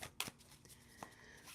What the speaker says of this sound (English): I'm going to shuffle the Illuminated Earth Oracle and get another message here.